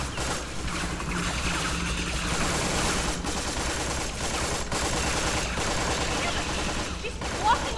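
Gunfire in the video game Tales from the Borderlands, a steady dense stream of shots running through the whole stretch at a fairly loud, even level, mixed with other game noise.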